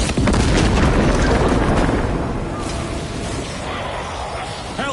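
A melter bomb detonates in the Warhammer 40,000: Space Marine video game, a loud, heavy boom at the start that rolls on into a long rumbling decay.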